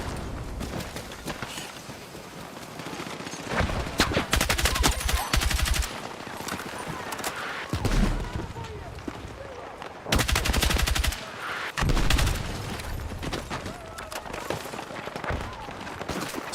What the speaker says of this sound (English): This guy's mortaring like crazy.